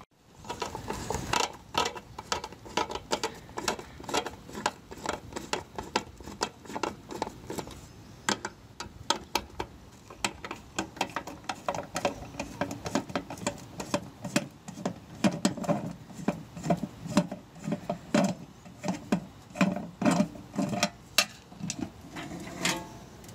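Screws are worked loose from a garage light fixture with a repeated ratcheting, creaking mechanical clicking that comes close and steady, with bursts of faster clicks and no speech.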